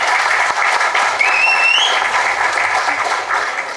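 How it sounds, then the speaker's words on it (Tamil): A movie audio and trailer launch crowd applauds loudly and continuously, a dense close wash of clapping with a faint whistle-like tone briefly rising above it. "பலத்த கரகோஷம் வேண்டுகிறேன்."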